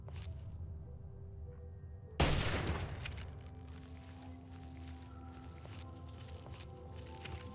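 Laser fire from a Protectron robot in Fallout 3 erupts suddenly as a loud, broad burst, then decays into a rumbling tail that lingers under steady game ambience.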